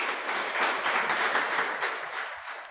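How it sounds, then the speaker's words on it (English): A crowd of students at the Uganda Law Society claps for themselves, producing a dense, lively burst of applause that holds steady and then starts to fade. "Clap for yourselves big, man."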